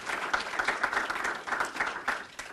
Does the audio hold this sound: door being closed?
no